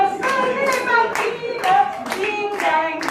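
Audience at a stage hypnosis show clapping in rhythmic bursts, loud and close, with brief pauses between rounds of applause.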